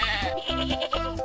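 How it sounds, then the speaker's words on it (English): A goat bleats in a wavering, quavering cry, close and fairly loud, with a few pulsing breaks across about a second. "goat"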